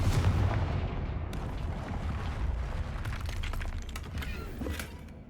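A Confringo fire spell goes off in Hogwarts Legacy as a loud, rumbling blast that fills the clip, with sharp crackling hits scattered over a continuous booming roar.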